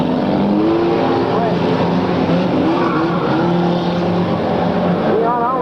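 Race cars at the start of a race on a racetrack, engines roaring and whining together in a continuous, loud, distant-sounding wash with pitch shifting as they accelerate, a commentator talking over them.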